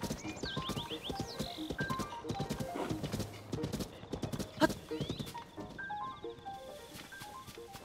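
Rapid clip-clop of a galloping horse's hooves in the video game Zelda: Tears of the Kingdom, a steady rhythmic beat alongside a game music melody, with a neigh partway through.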